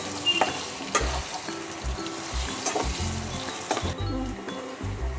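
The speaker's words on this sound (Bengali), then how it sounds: "হলুদ দিয়ে নুন দিয়ে আমি আলুগুলোকে লাল করে ভেজে নেব" Potatoes frying in oil with turmeric and salt, a continuous close sizzle with periodic scraping and clinking of a spatula stirring the pan.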